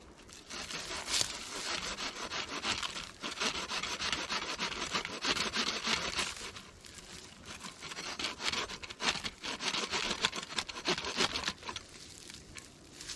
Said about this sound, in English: Now this branch is very dry, so it is a bit tougher to cut through